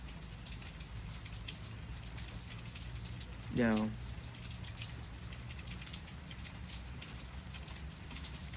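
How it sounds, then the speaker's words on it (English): Steady rain patters and hisses around a porch while someone says a brief word partway through. "Out here on the porch listening to the rain,"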